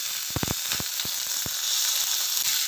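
Fennel seeds and curry leaves crackle in hot oil while potato poha is being made, a steady close sizzle marked by a handful of sharp pops early on.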